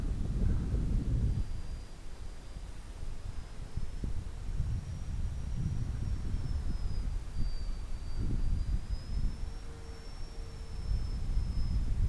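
An Airfield 750mm P-47 RC model airplane's electric motor runs at half throttle, giving off a thin, faint, wavering whine. Gusty wind noise rumbles through the recording and buffets the microphone.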